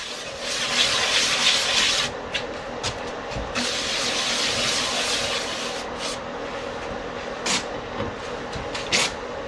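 Steady rubbing of abrasive paste over a 16-inch lathe-turned wooden chip and dip platter, a continuous close hiss with brief scuffs and taps near the end.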